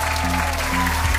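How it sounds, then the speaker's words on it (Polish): A television studio audience bursts into brief, dense applause as a Warsaw University of Technology academic choir is welcomed. The clapping is loud and continuous with a faint crowd murmur. "Wielkie brawa!"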